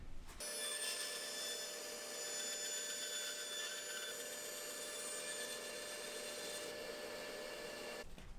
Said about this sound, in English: I'm gonna do this on the bandsaw